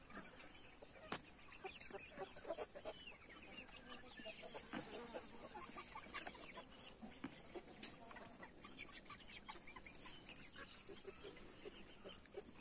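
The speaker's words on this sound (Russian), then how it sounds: "А это петушок у нас" A black crested rooster and hens on a farm cluck faintly and intermittently, a low scattered flock sound with occasional sharper calls over steady outdoor background.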